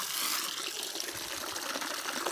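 Water runs steadily onto a clothes-washing stone, a continuous close hiss and splash with faint clatter mixed in and no talking.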